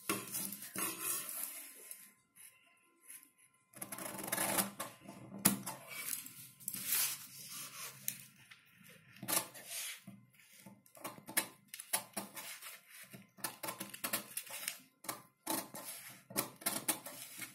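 Scissors snip through paper in short irregular bursts while a double sleeve pattern is cut, crisp and close with brief pauses between cuts and no talk.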